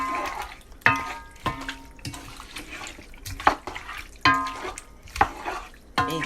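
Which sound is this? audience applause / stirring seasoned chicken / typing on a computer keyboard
stirring seasoned chicken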